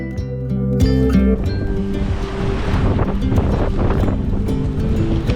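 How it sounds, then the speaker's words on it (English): Steady wind roars across a sailboat heeling under sail on Lake Erie, a constant broadband rush mixed with water splashing against the hull, loud and close without talking. "Got some decent wind, 10 knots."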